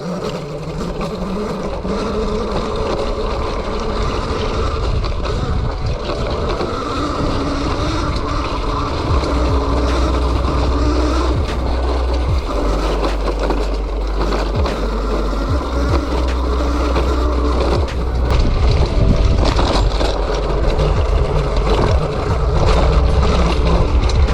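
A Yozma IN 10 electric bike rides off-road over rocky, bumpy trails, giving a steady wash of rumbling wind and mechanical rattle that swells slightly toward the end, with no talking.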